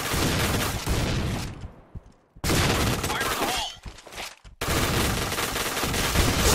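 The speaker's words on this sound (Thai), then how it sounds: "ยิงไม่โดนอะไรวะยิงไม่โดนวะท่านผู้ชม" Dense rapid gunfire from the first-person shooter Point Blank, loud bursts of automatic shots with a brief pause and a second cutoff between volleys, game sound mixed with faint voice.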